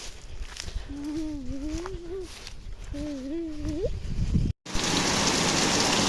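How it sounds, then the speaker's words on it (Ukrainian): A steady hiss of rain throughout, overlaid by a voice speaking, with the downpour swelling louder and denser in the final seconds. "Ох, дощ який, гляньте, устигли ми прибігти."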